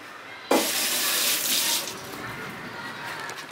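Tap water suddenly gushes into a sink as chopped green plantain is washed, with a steady loud rush of running water that eases slightly after a second or so.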